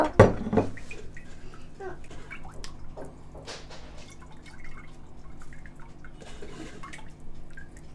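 Thick coconut milk for traditional thothal is strained through a sieve, with soft dripping and trickling liquid close by, starting with a brief louder splash and then continuing as faint intermittent drips.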